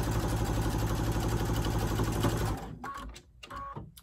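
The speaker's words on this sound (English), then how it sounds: "So I'm just going to sew. I'm also going to backstitch" Electric sewing machine stitching a simple fabric face mask, a steady fast mechanical whir with a rhythmic needle clatter running loud for about two and a half seconds, then stopping and giving way to short bursts of quieter handling as the seam is backstitched.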